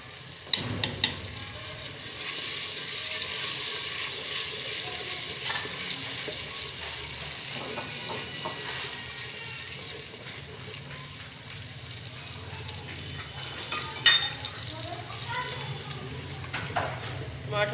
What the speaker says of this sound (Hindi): अब हम इसमें डालेंगे पिसे हुए टमाटर